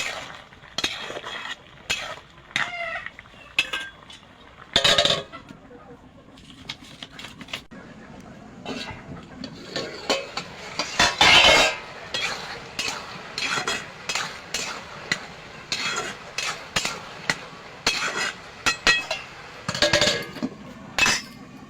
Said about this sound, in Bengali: ঢাকনা তুলে একটু নাড়িয়ে দেবো।